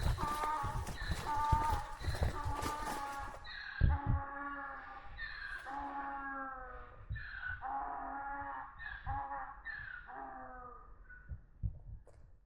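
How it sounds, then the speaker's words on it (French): A donkey met on a long walk from Cannes to the Dune du Pilat, braying loudly and close, with repeated harmonic cries after a stretch of mixed noise, hooves faintly audible underneath. "Un âne."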